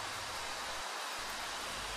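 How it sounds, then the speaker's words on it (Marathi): Monsoon rain beginning to fall over countryside, a steady soft hiss of dense drops with constant level and no distinct individual patter, no voices. "आणि एकदाचा पाऊस चालू झाला."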